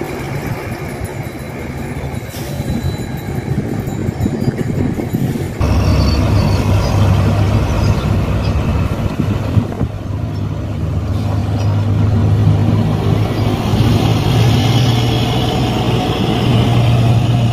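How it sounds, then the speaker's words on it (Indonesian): Dump trucks rumble at the Bocimi toll road construction site in Indonesia, a loud, continuous diesel drone that deepens and grows heavier partway through, with no pauses. "beberapa unit dump truck"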